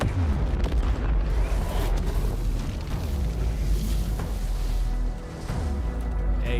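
Explosion in an animated Warhammer 40,000 episode, a dense sustained rumble of booms and crackling blasts, loud and continuous for several seconds with a brief dip near the end.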